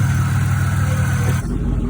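A Corvette engine runs at a steady, close idle with a low rumble. Its tone shifts and roughens briefly near the end.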